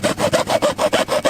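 Small hacksaw cutting through a plastic downspout pipe for a DIY French drain, about seven quick rhythmic back-and-forth strokes, close and fairly loud with no talking.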